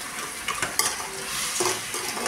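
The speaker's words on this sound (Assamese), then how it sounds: "এইফালে চেনি দি আকৌ অলপ ভাজি ল'ম গলি যোৱালৈকে" Vegetables frying with sugar in a pan, a steady close sizzle broken by several scraping stirs and light clatters of a utensil against the pan, with no talking.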